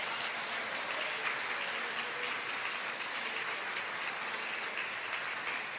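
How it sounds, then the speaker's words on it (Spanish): Church congregation applauding during a Spanish-language sermon, a dense, even wash of clapping heard from a distance that sounds almost like steady rain, with no talk over it. "dele un aplauso al Señor en esta mañana"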